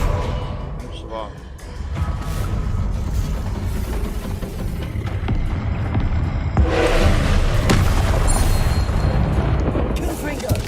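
A Confringo spell blast in Hogwarts Legacy, heavy booming and rumbling explosions layered with game effects, swelling louder partway through while a player talks over the action.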